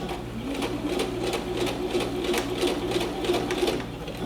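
Sewing machine running steadily while stitching a set-in sleeve into fabric, with a continuous rapid needle chatter and low motor hum, close and even throughout.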